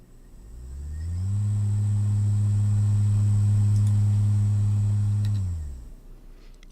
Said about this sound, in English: you can hear it from the motor, a sort of hum or a screech